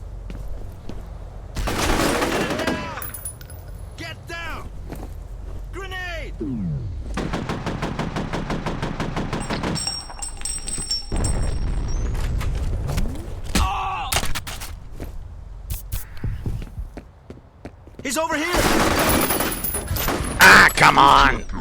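Rapid automatic gunfire bursts from a video game, loud and repeated across the clip, interleaved with game effects and brief pauses, with a voice heard in places.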